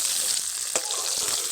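A fish head frying in hot oil crackles in a short, steady burst of close sizzling with a single faint knock partway through.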